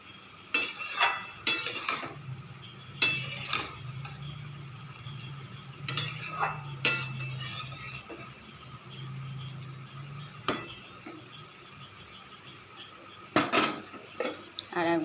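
Cabbage being stirred and mixed in a cooking pot, with scattered clinks and scrapes of a utensil against the metal pot, fairly quiet and close, in irregular bursts.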